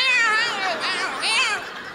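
A house cat gives a long, wavering meow, close and loud, stretching over two seconds before trailing off.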